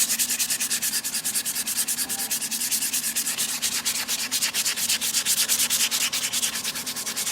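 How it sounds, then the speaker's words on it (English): Sandpaper rubs by hand across a wooden P-Bass body being shaped, making steady rhythmic back-and-forth rasping strokes up close with no talk. "Now I hit with sandpaper"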